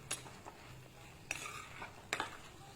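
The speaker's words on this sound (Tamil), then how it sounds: "நல்லா 4 கிளறி விட்டுக்கலாம்" Eggplant masala is stirred in a pan with a utensil, making three separate scraping clatters against the metal over a faint background, close by, with no talking.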